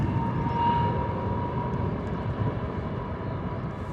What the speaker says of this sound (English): A321 off to Nice is our current departure.